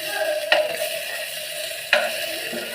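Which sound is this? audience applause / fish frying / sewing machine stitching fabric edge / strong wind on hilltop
fish frying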